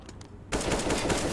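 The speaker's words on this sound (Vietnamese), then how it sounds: "Và Cheeseburger bắn rất khó chịu" Rapid automatic gunfire in the video game CS:GO on the Overpass map breaks out suddenly after a quiet half second, a loud dense rattle that continues to the end.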